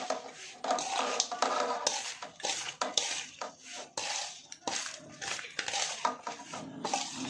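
Rava laddu ingredients being stirred and mixed in a pan, with a spoon scraping and clinking against the metal in uneven, busy strokes close by.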